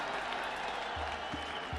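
Crowd at a cricket match between Oman and Nepal clapping steadily, a dense patter of applause heard from a distance.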